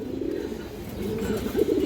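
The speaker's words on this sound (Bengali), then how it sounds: "এই যে দেখেন কবুতরের আগে ডাক দেখেন" A male black Bagha pigeon coos close by, a continuous low throaty call that rises in pitch toward the end and stands alone without talk.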